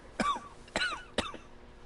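A character in the video game Sherlock Holmes: The Devil's Daughter coughs three times in quick succession, each cough short and harsh, close and clear with no talk.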